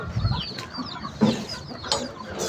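Hens clucking in a backyard coop, several birds giving short, chattering clucks and squawks at close range over a low background murmur.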